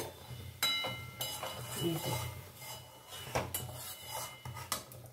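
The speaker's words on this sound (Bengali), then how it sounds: "এবারে চাপা খুলে দেবো।" A lid comes off a cooking pan of ridge gourd (jhinger) sabzi with soft metallic clinks, scraping and a few knocks, fairly quiet and close, with a voice speaking faintly.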